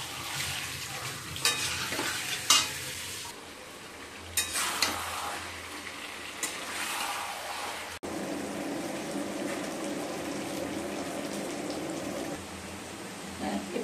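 Marinated mutton stir-fried with spices in a pan, sizzling steadily with bursts of scraping and stirring, a wetter bubbling fry settling in for the second half; quiet and close, no talk.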